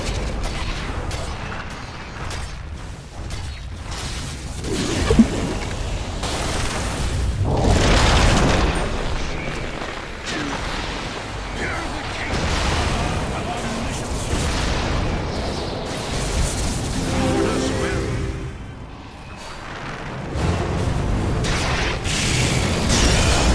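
Heavy booming impacts and crashing mechanical thuds as the bottom tower is attacked in Dota 2, a dense, continuous series of explosions and hits at varying loudness.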